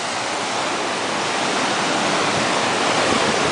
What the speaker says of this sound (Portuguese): esse mar tá muito louco mesmo